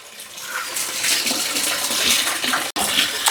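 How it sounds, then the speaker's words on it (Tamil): Water splashes and pours steadily as a clay pot is rinsed and washed, a continuous broadband wash of running water with one abrupt brief gap near the end. "கைஸ் பானையை கழுவி கொண்டு வந்துட்டான்."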